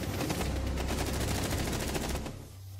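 Frost's light machine gun firing in a video game: one sustained, rapid automatic burst of evenly spaced shots, close and loud, that cuts off near the end, leaving a quieter background.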